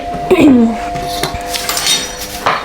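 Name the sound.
dishes and utensils clinking while being cleaned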